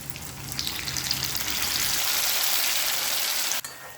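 Spice paste hitting frying paneer pieces in a hot pan, a loud, close, continuous sizzle that swells and holds steady throughout.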